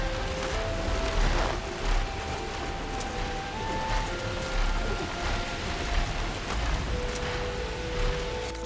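Steady rain falls in the video game Horizon Forbidden West, a dense, even hiss of drops that holds at constant loudness throughout, with no voices.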